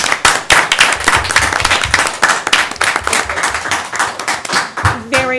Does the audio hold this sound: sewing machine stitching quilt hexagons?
no